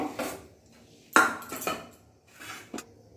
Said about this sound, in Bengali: এবার আলুগুলোকে একটি পাত্রে তুলে নিচ্ছি